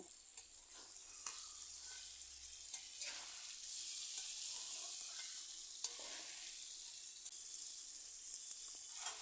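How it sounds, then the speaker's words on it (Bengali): Potato and cauliflower pieces coated in spices frying in oil for a fish curry, a steady bright sizzle with spoon scrapes and stirring clatter, close and continuous. "মশলার সাথে আলু ফুলকপি মিশিয়ে নিয়েছি এবার কিছুক্ষণ এভাবে ভেজে নিচ্ছি"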